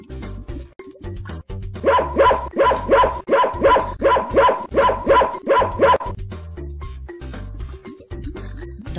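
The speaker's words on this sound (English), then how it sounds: "Dog sounds woof." A dog barks about a dozen times in a steady, rhythmic run over a children's sing-along song's backing music, loud and clear in the middle of the passage.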